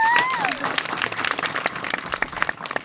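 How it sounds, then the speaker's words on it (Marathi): An audience at a village gathering breaks into applause, a dense, loud burst of many hands clapping at once that continues steadily throughout, with a brief tonal sound at the start. "आपल्यासाठी एक टाळ्या नक्की आपल्याला वाजवायला पाहिजे"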